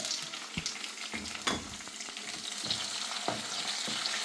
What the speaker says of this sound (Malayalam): നേരത്തെ തയ്യാറാക്കിയ വെളുത്തുള്ളി ഇഞ്ചി പേസ്റ്റ് ഇട്ട് കൊടുക്കാം